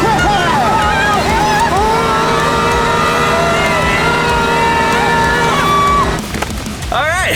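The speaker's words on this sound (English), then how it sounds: "Gonna fire up the engines and make our way to the pond monster's location." Snow crawler engines running on ice, a loud, continuous, droning engine roar whose tone sweeps up and down, then fading and breaking up near the end, with voices mixed in.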